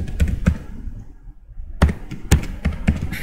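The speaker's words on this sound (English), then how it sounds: "So here I'm typing" Keys are tapped on a computer keyboard in a short burst, a pause of near silence, then another quick run of close, crisp keystrokes.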